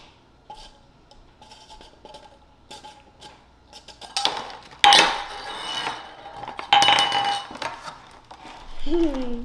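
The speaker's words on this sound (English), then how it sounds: "How hard is this to open a can?" A metal can being opened by hand to serve as a candle container gives light clinks and taps, then louder bursts of metallic scraping and prying, close up, with a voice briefly at the end.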